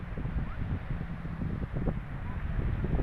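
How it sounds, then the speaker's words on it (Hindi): Strong wind rumbles steadily across the microphone in Bandar Abbas, Iran, on the Persian Gulf coast, a constant low buffeting roar with no pauses. "बड़ी तेज़ हवा चल रही है"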